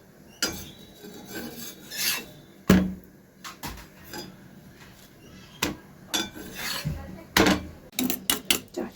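Rolling pin working roti dough on a board in a home kitchen, giving soft rasping rubs and scattered wooden knocks and clatters at close range, irregular over several seconds with no talk.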